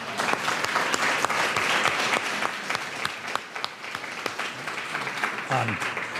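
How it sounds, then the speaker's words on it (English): An audience applauds to welcome a speaker at a talk on Chinese education, with continuous crowd clapping throughout and a brief voice near the end. "after we give him a big round of applause"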